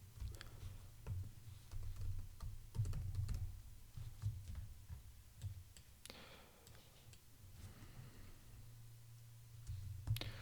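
Someone types a command on a computer keyboard, producing quiet, irregular key clicks close by over a low steady hum, with a brief louder clatter near the middle.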